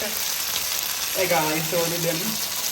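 Noodles for chicken Hakka noodles sizzling in a hot pan, a loud steady frying hiss with a brief voice talking over it partway through.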